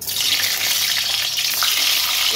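Boiled duck eggs fry in hot mustard oil in a kadai, giving a loud, steady, close sizzle that runs without a break and with no other sounds.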